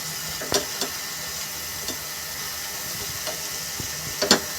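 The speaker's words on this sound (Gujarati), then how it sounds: "આ રીતે ધીમા ગેસ ઉપર આપણે લીલું લસણ બનાવવાનું છે" Green garlic cooks in ghee over a low gas flame, giving a steady soft sizzle and hiss with a few sharp crackles and stirring taps, moderately close and without talk.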